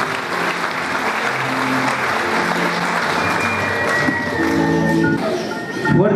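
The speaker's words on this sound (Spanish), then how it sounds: "Fuertes aplausos" Loud applause fills a hall at a local authorities handover ceremony in Chipiacul, a dense sustained crowd clapping with a voice and tonal sounds rising over it near the end.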